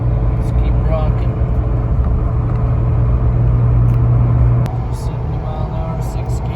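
A Jeep Gladiator on 37-inch tires with 5.13 gears cruises at 70 mph in sixth gear around 2,500 RPM, giving a steady loud engine and road drone with a low hum that drops slightly near the end.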